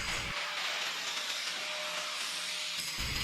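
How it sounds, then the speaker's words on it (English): A handheld angle grinder works steadily over welds on a boat trailer, a continuous loud broadband whine that holds for about three seconds with short gaps at the very start and end. "I'm taking the grinder and grinding down those welds smooth."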